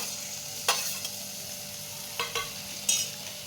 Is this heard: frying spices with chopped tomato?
yes